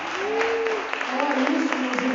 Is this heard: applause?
yes